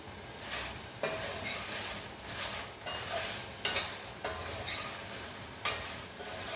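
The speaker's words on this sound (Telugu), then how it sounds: "ఇప్పుడు ఇవి మాడకుండా వేయించేసుకోవాలి" Dried red chillies and gongura leaves dry-roasting in a pan, with a steady scraping stir and faint crackle broken by repeated louder strokes of the spatula against the pan, close and without talk.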